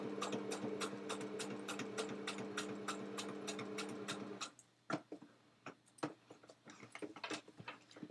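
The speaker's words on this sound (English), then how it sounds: "So just walk the machine forwards until you get past the thick bit" A sewing machine stitches through thick fabric in a rapid, regular ticking run, then slows to uneven single clicks as it is walked forward by hand, close and fairly quiet.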